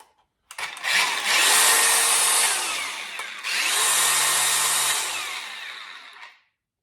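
DeWalt FlexVolt 60V cordless angle grinder for 4 1/2 to 6 inch discs spins up twice to a high whining roar, each run ending as the brake pulls the motor quickly down to silence.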